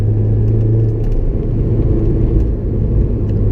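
A Honda S2000 on a test drive pulls steadily through its gears, a loud continuous engine drone and road rumble holding close and constant with slight dips in level, no voices over it.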